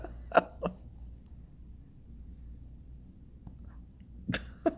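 A Shih-Tzu dog hiccups indoors: a few short, sharp, separate jerks, two close together near the start and more near the end, over a quiet room hum.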